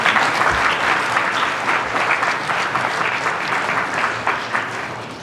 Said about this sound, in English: please join me in giving a round of applause to the bride and